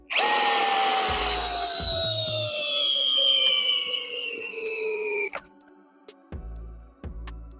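Metabo HPT cordless hammer drill on low speed with a 5 amp hour battery driving a lag bolt, a loud continuous whine that slowly drops in pitch as the load grows, then stops abruptly, leaving a few faint clicks and thumps.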